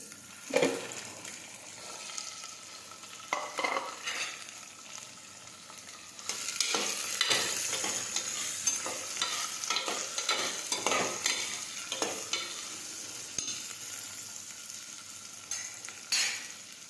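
Cluster beans (guar) tossed into a hot pan with asafoetida: a quiet opening with a couple of clinks, then the sizzle swells into a loud, crackling fry with repeated spatula scrapes and stirring, no one talking.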